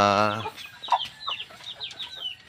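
Shamo and native chickens cluck and chatter at close range during feeding, with a long rooster crow at the start followed by scattered short clucks.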